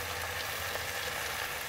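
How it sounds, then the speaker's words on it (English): Lamb shanks and diced tomatoes sizzle in a hot pan, a steady, close, even frying hiss that runs without a break and with no talk. "Wait till the sizzling stops."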